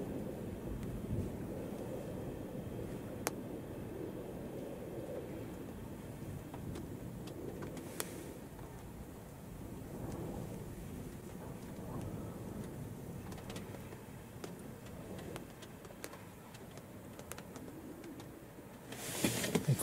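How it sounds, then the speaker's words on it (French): Soft, steady rain begins falling outside a car during a May thunderstorm, a low continuous patter with faint low rumbling, fairly quiet overall, ending with a short burst of louder noise. "Il commence à pleuvoir, on ferme la portière."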